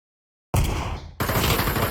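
Gunfire in the VR shooter Pavlov VR during a competitive match bursts in abruptly after silence: a loud, close volley of rapid shots, a brief dip, then more sustained firing.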